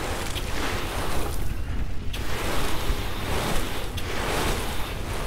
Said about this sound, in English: And then let's go for the water. Let's irrigate these bitches.